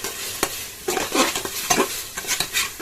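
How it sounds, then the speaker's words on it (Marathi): Onion and tomato frying in oil are stirred with a utensil for a chicken biryani, producing loud, close scraping strokes and clanks over a bright sizzle, in irregular bursts without speech. "कांदा आणि टमाटो चांगलं तेलामध्ये फ्राय झालेला आहे ठीक आहे परतवून घेऊ त्याला चांगल्या प्रकारे"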